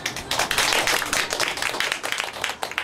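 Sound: audience applause welcoming the speakers

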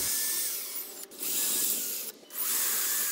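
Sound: drill pre-drilling pocket holes in wooden garden box

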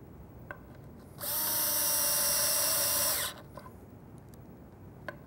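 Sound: power drill driving screws into a cabinet face frame

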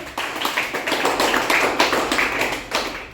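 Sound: classroom children clapping

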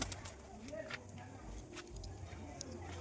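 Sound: pigeons cooing

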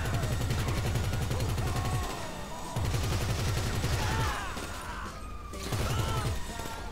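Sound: gunfire shooting at cops in video game GTA V Online

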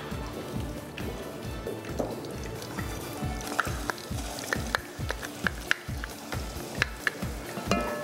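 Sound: frying onion and garlic in olive oil in a pan

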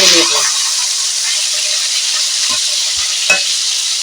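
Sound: rohu fish pieces frying and being turned in oil

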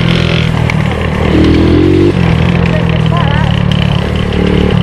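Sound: motorcycle accelerating through mud

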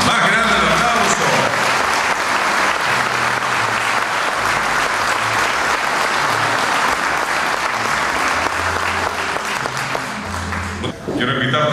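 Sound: audience applause at ceremony

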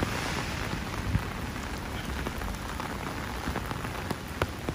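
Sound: heavy rain in Hong Kong during rainstorm warning

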